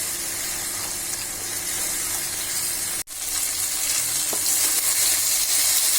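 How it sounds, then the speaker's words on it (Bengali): Dried taki fish, pre-roasted and washed, fries in oil in a pan with a steady, loud bubbling sizzle and light stirring, cutting out briefly midway before resuming. "এখন শুটকিটাকে এই তেলের মধ্যে ভালো করে কষাচ্ছি।"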